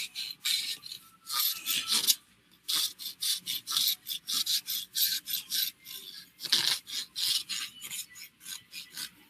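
A farrier's rasp works over a horse's hoof to blend the bevel, giving steady rhythmic rasping strokes, close and fairly loud, in repeated runs with a brief pause between.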